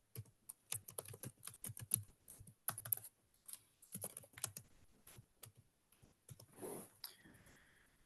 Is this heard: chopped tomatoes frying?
no